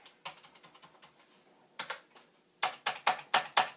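Fingers tap on the keyboard of an old garage-found Commodore 64, a quick run of close, clacky keystrokes, then a pause and a louder burst of hard, evenly spaced presses.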